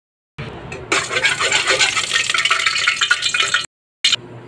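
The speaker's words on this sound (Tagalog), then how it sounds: "Mainit na natin kawali, maglagay tayo ng konting mantika." Frying sizzle in a hot wok-style pan as a little cooking oil goes in before garlic and onions for goat stew, a steady crackling hiss lasting a few seconds, then a brief cutoff and a short resumption.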